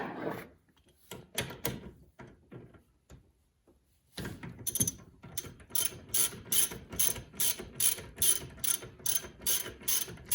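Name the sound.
wrench loosening a nut on dirt bike suspension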